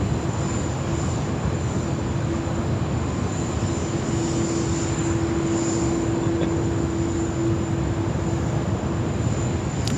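An airplane departs at Sydney Airport, heard as a steady, loud engine roar with a faint whine throughout and no clear voices.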